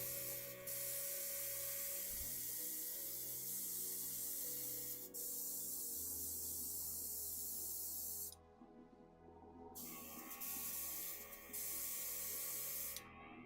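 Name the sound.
spray paint can spraying steel paint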